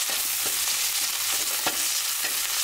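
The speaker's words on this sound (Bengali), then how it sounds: "তেলে দিব। সরিষার তেল, রসুন ঢাকলা করে নিচ্ছি" Garlic frying in mustard oil for a raw mango sour dish, a loud, dense, unbroken sizzle with occasional stirring knocks, close up and without talking.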